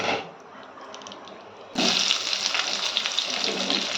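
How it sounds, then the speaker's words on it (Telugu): Whole cumin, cinnamon, cloves and cardamom sizzle in hot ghee for tomato pulao. A quiet hiss flares suddenly into a loud, bright, steady crackle midway. "దీంట్లో కొద్దిగా జీలకర్ర, దాల్చిన చెక్క, లవంగ, యాలకులు ఏదో కొద్దిగా వేసుకొని కొద్దిగా వేగనివ్వాలి"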